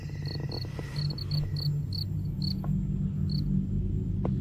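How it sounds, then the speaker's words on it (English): Crickets chirp at night in short repeated pulses over a low rumbling background, fairly close and steady, then thin out toward the end. "Look, the crickets stop."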